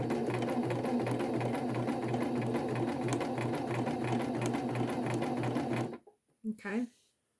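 Sewing machine running steadily and close up as it stitches a quarter-inch seam on a baby quilt, a fast even whir with rapid needle pulses that stops abruptly near the end, followed by a brief voice.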